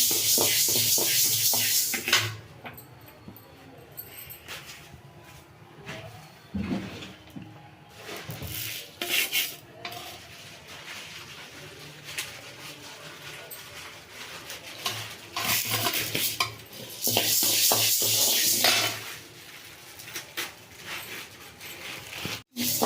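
Dry green gram (moong beans), about 200 grams, is stirred and dry-roasted in a pan for sambar powder, giving a continuous rustling, scraping shuffle that rises and falls with the spoon strokes.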